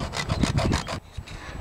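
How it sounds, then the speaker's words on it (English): Rapid back-and-forth strokes of a junior hacksaw cutting through a support on an allotment, about ten close, rasping strokes in a steady rhythm for a second, then a pause and a couple of lighter strokes. "Now, I haven't got wire cutters, but I have got this junior hacksaw here"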